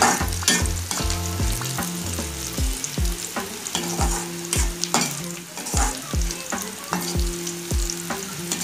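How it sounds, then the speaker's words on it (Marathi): Chopped chili frying in oil in a pan for an okra stir-fry, with steady sizzling and repeated rhythmic clanks and scrapes of a spoon stirring against the pan, close and loud, no talk. "मिरची ही आपल्याला चांगली लाल करून घ्यायची।"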